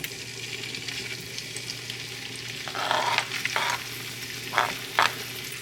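Ham frying in avocado oil in a hot pan, a steady sizzle with louder bursts of crackle and stirring scrapes toward the end, close and alone.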